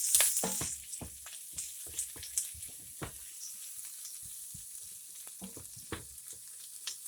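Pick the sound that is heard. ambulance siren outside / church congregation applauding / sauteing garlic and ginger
sauteing garlic and ginger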